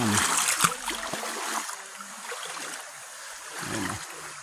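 River water flows and splashes as people wade across a clear river on a trail near Peñablanca, Tuguegarao, with footfalls and splashes loudest early on, then a softer steady flow under quiet murmuring.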